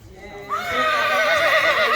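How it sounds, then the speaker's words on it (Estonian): A young horse at a breeding show whinnies loudly and close by, one long wavering neigh that rises and then falls away over a faint background of arena noise. "Teine noor hobune siin ringis on Killa"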